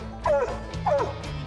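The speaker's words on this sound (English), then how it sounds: "You hear the difference in her track bark there" A hunting hound trailing a raccoon gives drawn-out, yodelling track barks, two clear bawls about half a second apart plus the start of a third, fairly close in an outdoor woodland setting.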